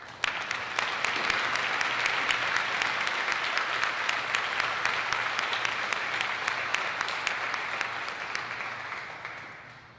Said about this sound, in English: Graduates, please join me in applauding the faculty and staff for their invaluable contributions to our community.